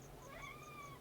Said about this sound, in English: get a cat. They make everything better. Except when they're screaming for attention when you're trying to sleep.